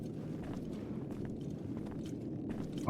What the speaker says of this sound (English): I can hear two lots of footsteps.